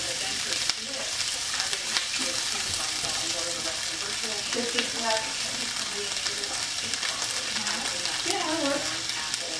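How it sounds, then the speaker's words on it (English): Food sizzles in a pan during cooking for an Indian tomato dal, with stirring strokes and scrapes scattered through a constant crackling fry. "Fry them up a little bit"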